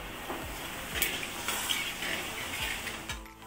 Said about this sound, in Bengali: ওই মাছের তেলেই আমি দিয়ে দেব জিরে ফোড়ন